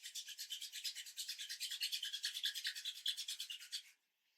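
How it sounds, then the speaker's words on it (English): Palms rubbed briskly together, a fast, even rhythm of dry swishing strokes, close and fairly soft, running for about four seconds before stopping into silence. "begin to rub the palms of your hands together nice and fast"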